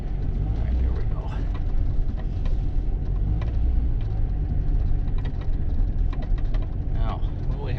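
Engine of a 1998 Jeep Cherokee XJ idles and runs as gears are shifted, a close, continuous low rumble with small mechanical clunks, while people talk over it.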